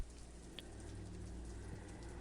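Steady red acid rain pours in a dark video game world, a continuous broadband hiss with a low rumble underneath, even and unbroken, with no voices over it.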